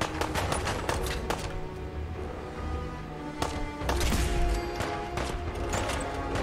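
Gunfire in the video game Fallout 4, a series of sharp shots in quick bursts with heavy low thumps and scattered impacts, fairly loud and close.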